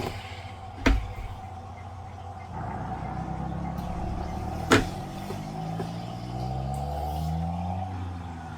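A turbocharged car engine in BeamNG, with an idling drone that rises and shifts in pitch as the car pulls away, broken by two sharp clunks.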